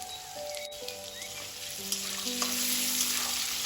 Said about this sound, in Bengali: সবার প্রথমে আলুটা ভাজে নিব।